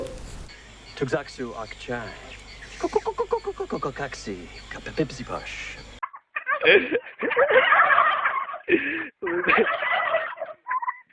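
A voice speaks in rapid pulses, then several turkeys gobble loudly in bursts, their rattling calls overlapping close by.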